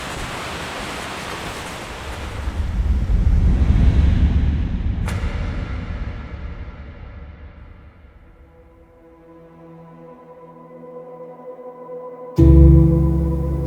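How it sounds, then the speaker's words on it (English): A river near Achi Shrine rushes steadily as broadband water noise, swelling and easing, with a sharp click partway through and a louder burst near the end. "You can hear the sound of the river."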